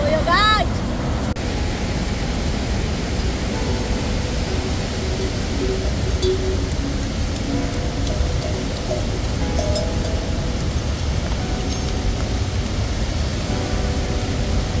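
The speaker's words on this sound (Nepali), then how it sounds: "अहिले पानी परिरहेको छ बाहिर।" Rain falling outdoors by a riverside on a Langtang mountain trek, a dense steady hiss of rain and rushing water throughout, loud and close, with faint tonal sounds in the background.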